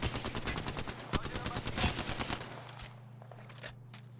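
Rapid automatic gunfire in Apex Legends, a fast loud string of shots for about two and a half seconds that breaks off into quieter scattered sounds.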